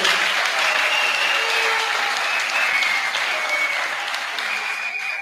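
Steady applause from the congregation at a pastor's ordination ceremony, sustained clapping filling the whole stretch at an even, fairly loud level.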